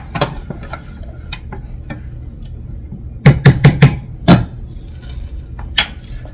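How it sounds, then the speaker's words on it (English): Rice being stirred in a pot with a spoon, a run of sharp scraping knocks, several quick strokes in a cluster, heard close over a faint sizzling background. "I'm gonna stir the rice a little bit."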